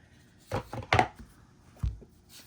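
A few crisp, short snaps and flicks of shiny tarot card stock being handled, close by, with quiet gaps between them.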